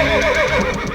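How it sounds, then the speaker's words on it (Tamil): A horse whinnies in one close, loud, wavering neigh that rises and falls in pitch, with no voices over it. "குதிரை ஏன் இவ்வளவு பதட்டமா இருக்கு?"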